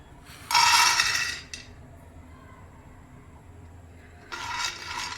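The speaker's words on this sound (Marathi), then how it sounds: "दाणे आता आपण भाजून घेणार आहोत" Peanuts tossed and scraped in a pan while roasting, two bursts of dry rattling and clinking, the first about a second long and the second starting near the end, with quiet pauses between.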